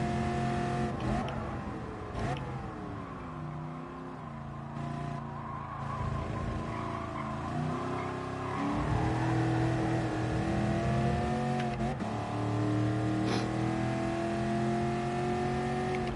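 Racing car engine in the GT Sport video game, revving and shifting continuously with rising and falling pitch, tyre squeal and skidding mixed in, loud and close throughout with no talk.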